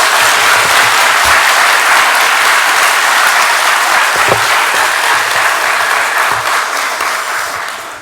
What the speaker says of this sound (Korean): 우리 힘껏 박수로 환영하겠습니다